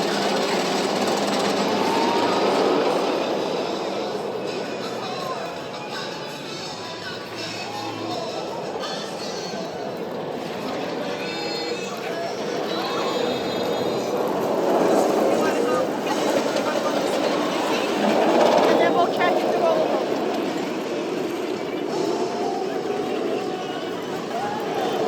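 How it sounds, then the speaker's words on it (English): Jersey Devil wooden-style roller coaster at Six Flags Great Adventure, running rough and bumpy: a loud, steady rumbling roar with rattling clatter lasting throughout the ride, continuous and close. "Just did my first ride of the season on Jersey Devil, and it's really bumpy."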